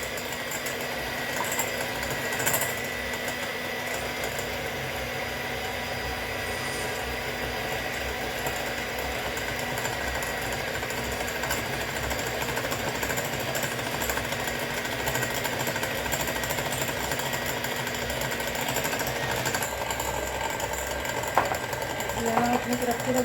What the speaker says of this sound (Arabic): نقعد نضرب كده بالمضرب وعلي السرعه بقى بعد شويه